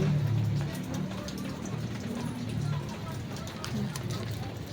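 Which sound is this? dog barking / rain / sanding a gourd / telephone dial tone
rain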